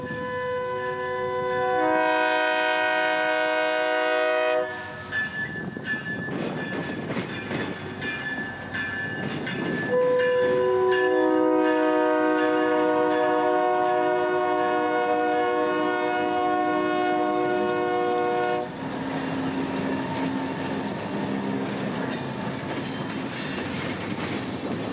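US Sugar freight train with two matching SD40M-2 locomotives in new paint passing close by in South Florida, loud sustained multi-note horn blasts sounding repeatedly over the heavy rumble and clatter of wheels on rail.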